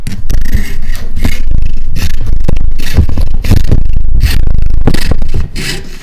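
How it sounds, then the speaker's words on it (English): A hand saw cuts through a skull in rapid back-and-forth rasping strokes, loud and close, with short pauses between bursts and no speech. "sawing skull is much easier"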